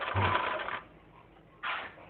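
A sewing machine stitching a zip close to the edge of a dress runs in two short bursts with a brief pause between them, up close and fairly quiet.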